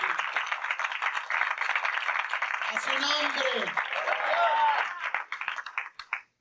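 A church congregation claps and cheers during a sermon, dense applause building for several seconds with voices calling out over it, then breaking into scattered claps and fading.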